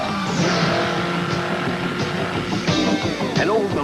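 Stock cars of the Old Milwaukee NASCAR race team roaring past, loud sustained engine drone with pitch sweeping down as cars pass close by, one after another in quick succession.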